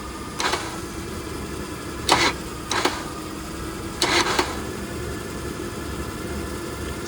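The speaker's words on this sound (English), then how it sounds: "fuel pump primes." The fuel pump on a Harley-Davidson Road King motorcycle primes: short electric whirring buzzes in separate bursts, one brief, then a longer pair, then another pair, close and fairly loud against a quiet background.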